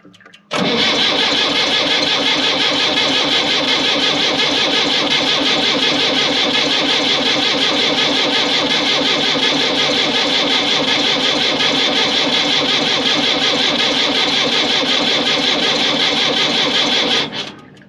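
An International Harvester 270A backhoe's diesel engine cranks and catches, then runs loud and steady with a continuous rattling drone for most of the clip before cutting off.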